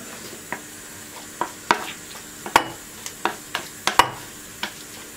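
Repeated scraping and clacking of a utensil stirring food in a pan during a Turkish home-cooked dinner, a dozen sharp irregular strokes over a faint steady sizzle, close and clear with no voices.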